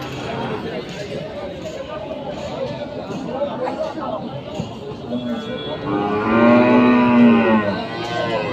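At a cattle market in Nadia district, West Bengal, crowd chatter and voices fill the air before a cow lets out one loud, drawn-out moo close by.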